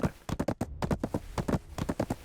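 Horse hooves clip-clop in a rapid, steady rhythm in the video game Black Desert Online, close and prominent throughout.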